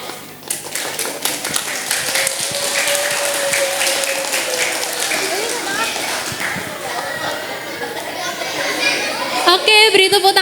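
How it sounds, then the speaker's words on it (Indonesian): Children and adults at an Easter Sunday school service in a church give the Indria class a round of lively applause, with clapping and cheerful chatter building and then tapering as voices rise near the end. "Oke, beri tepuk tangan sekali lagi buat kelas Indria."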